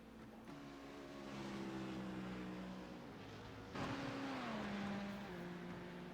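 Race cars at Watkins Glen in a sim racing game drone past, engines rising and falling in pitch as they come through, a steady moderate roar with one car swelling louder midway.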